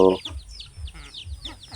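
Aseel roosters cluck and squawk in quick, repeated calls close by as they are fed, with soft low thumps and a brief voice at the start.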